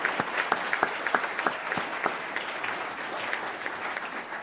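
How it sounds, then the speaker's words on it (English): Audience clapping at a board meeting, a burst of individual claps that starts crisp and fairly close, then thins into a softer, steady patter over a few seconds. "Let's give him a round of applause."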